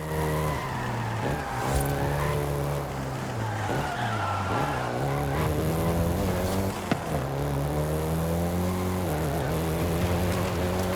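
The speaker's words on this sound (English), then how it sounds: "including the Golf GTI you're driving right now" Volkswagen Golf GTI driven in the racing game Forza Horizon 5, its engine droning loudly and steadily with rising and falling pitch through gear changes, with tire squeal and skidding mixed in throughout.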